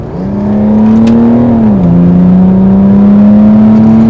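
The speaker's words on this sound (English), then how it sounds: "I've asked Jamie to show me the power of this diesel" A tuned, heavily uprated turbo diesel car engine revs hard nearby, its loud droning note climbing, dipping briefly, then rising again as it accelerates.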